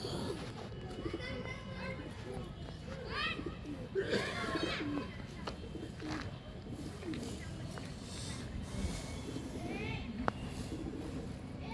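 Pigeons cooing in a loft in Pandharpur, including a five-year-old breeding pair and their young, with soft repeated coos and chirps under steady talk and background voices of children.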